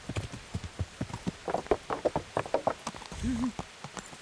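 Horse hooves clip-clop in a steady rhythm nearby in the video game Kingdom Come: Deliverance, the hoofbeats quickening, with a short tonal sound near the end.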